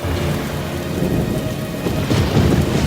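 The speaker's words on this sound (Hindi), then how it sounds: "जिससे बना इतना अंधेरा और जबरदस्त तूफान" A violent, dark thunderstorm sends heavy rain down in a dense, steady hiss while deep thunder rumbles beneath it and swells near the end. The storm sounds close and loud throughout, with no voices.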